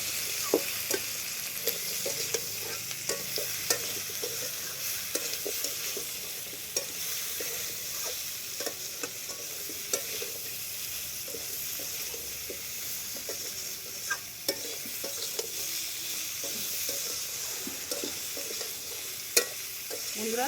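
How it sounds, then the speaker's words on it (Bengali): Vegetables stir-fry with turmeric in a pan, giving a constant sizzle broken by frequent scraping and clinking of a spatula stirring the mixture, steady and close, with no talk. "হলুদ দিয়ে ভালো করে এবার নেড়ে চেড়ে কষিয়ে নেব।"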